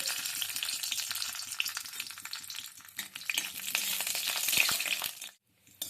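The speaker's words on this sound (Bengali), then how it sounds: "অল্প একটু কিচমিচ নিয়েছি ভেজে নিচ্ছি" Steady crackling sizzle of raisins frying in hot oil, with faint stirring scrapes, continuous for about five seconds before cutting off.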